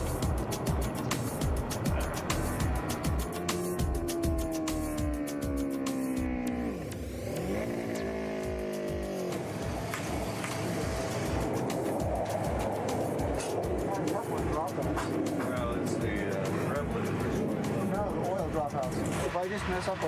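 A MotoCzysz racing motorcycle engine on test, revving hard with rising and falling pitch sweeps, sputtering and popping between runs, loud and close with people talking over it.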